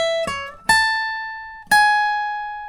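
A few guitar notes from the second section of a song's intro ring out alone: three plucked attacks, the last two letting high tones sustain and decay slowly.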